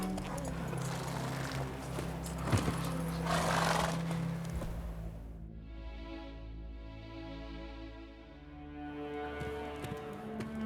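Roach, a horse in The Witcher 3, clops its hooves in a steady rhythm, then gives a loud whinny around 3–4 s. A musical, tonal game soundtrack follows and carries on under the quieter end.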